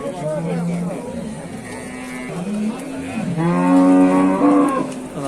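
A cow with her calf at a Dushanbe livestock market lows repeatedly, drawn-out moos rising and falling over several seconds, loud and near, with market chatter faintly behind.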